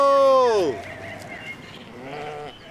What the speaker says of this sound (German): Heute wollen wir Schafe treiben.